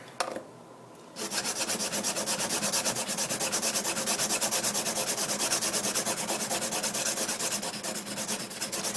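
A knife blade scrapes back and forth against cheap sharpening tools in a steady, continuous rasping rub that starts after a brief quiet moment and carries on loud and close with no voices.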